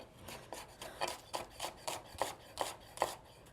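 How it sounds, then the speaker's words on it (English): A knife slices a red onion thinly from pole to pole, giving a steady run of about nine crisp, evenly spaced cuts against a board, close and clear with no talking. "To cut the onion, I'm going pole to pole. So you want to slice it as thin as you can."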